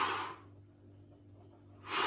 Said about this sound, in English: And we're breathing every single time.